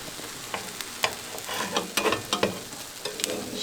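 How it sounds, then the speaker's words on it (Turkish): A Turkish breakfast dish fries in oil in a pan, a close sizzle with repeated stirring and scraping clicks from a utensil moving around the pan, no talking. "Bu şekilde gezdire gezdire kahvaltılığımı pişiriyorum."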